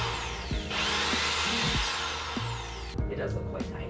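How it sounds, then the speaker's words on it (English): A power drill run by a first-time user while hanging curtains at home, its whine rising and falling in a few short bursts, with people talking over it. "This is my first time ever using a power drill."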